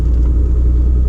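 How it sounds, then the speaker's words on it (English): Car rumbling past on a muddy off-road trail, a steady low engine drone close by and loud throughout, with no voices. "A car coming, gotta get out of the way."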